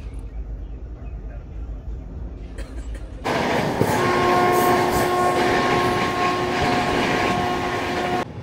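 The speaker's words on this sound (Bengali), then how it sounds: "মারাত্মক গতি নিয়ে কিন্তু এগিয়ে চলেছে ট্রেন" The Howrah Rajdhani Express, train 12305, runs at high speed between Asansol and Jamtara. A quiet rumble swells abruptly into a loud, roaring rush of wheels and carriages with sustained tonal whines, heard from near the coach door.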